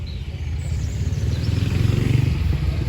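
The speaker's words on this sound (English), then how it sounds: "sounds like some interesting motorbikes arriving" Motorbikes, including a pair of twins, arriving at a classic car and bike show in France: a steady low engine rumble that grows louder and more pulsing as they approach, with no talk over it.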